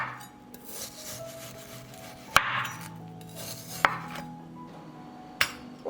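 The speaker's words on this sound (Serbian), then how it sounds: "I secite ovako što tanje." A knife slices a roll of frozen homemade chicken meat thinly on a cutting board. Quiet rasping scrapes are heard, with a few sharp knocks as the blade hits the board, all close up and without talk.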